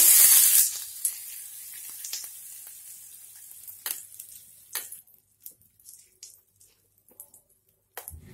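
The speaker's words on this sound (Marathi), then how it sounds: "कढीपत्त्याची पानं, तडका तयार। आता हा चटणीवर घालूया।" Hot curry-leaf tempering poured onto raw mango chutney gives a loud hissing sizzle at first that fades quickly into faint, intermittent crackles and pops.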